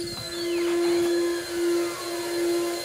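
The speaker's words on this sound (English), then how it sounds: "And here's the central vac garage system." A steady Air-Vac central vacuum motor in a garage whine hums continuously with a high-pitched tone, rising and falling slightly in loudness, heard from a distance, with no voices.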